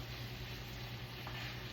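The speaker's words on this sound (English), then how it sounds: "the steak is cooking really good" Steak frying in a pan gives off a steady, even sizzle, faint and continuous with no voices over it.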